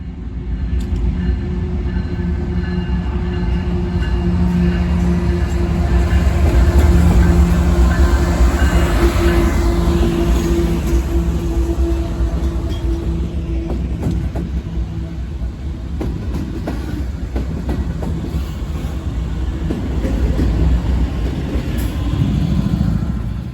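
A BNSF freight train rolls past close by, a loud, steady low rumble with wheel and rail noise that swells and eases over the length of the consist, with no voices.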